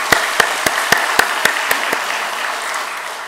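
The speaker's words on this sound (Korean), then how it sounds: "우리 찬양을 받으신 하나님께 영광의 박수 돌리겠습니다" A congregation claps in unison during a church service, with about eight sharp, evenly spaced claps followed by a softer, fading spread of applause.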